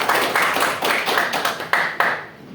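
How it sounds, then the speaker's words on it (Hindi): An audience claps at a corporate motivational event, with a dense burst of hand claps in uneven rhythm, fairly close and loud, with no talking over it. "तब सभी के लिए जोरदार तालियां"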